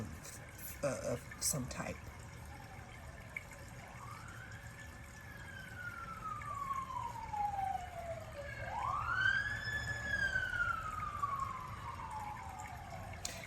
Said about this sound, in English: There is a siren for anyone who uses that as a sign.